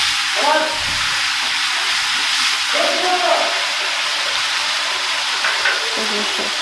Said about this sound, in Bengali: এতে অ্যাড করলাম পেঁয়াজ পেস্ট